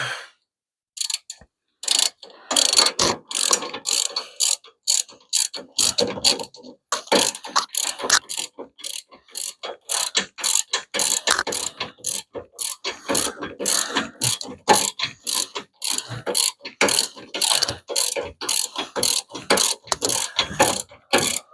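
A hand ratchet tightens bolts during a front bumper install on a Hemi Plymouth Duster, with loud, rapid clicking bursts repeating in short strokes separated by brief pauses.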